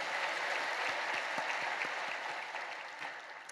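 Church congregation applauding the choir after a hymn at a Friday evening service, a dense, steady wash of clapping that fades slightly toward the end, no voices over it.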